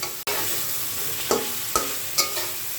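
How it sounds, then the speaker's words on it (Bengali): Rohu fish frying in a pan of spice paste with cumin and ginger, a steady close sizzle broken by a few sharp scrapes and knocks as it is stirred. "সম্পূর্ণ মশলাটা সুন্দর করে কষিয়ে আমি এখন মাছগুলো দিয়ে দেব।"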